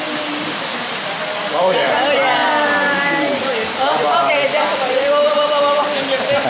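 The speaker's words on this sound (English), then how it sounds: "Oh, you're below the waterfall." Rushing waterfall at La Paz Waterfall Garden in Costa Rica, a loud steady roar of falling water heard from close by, with people talking over it and a brief exclamation.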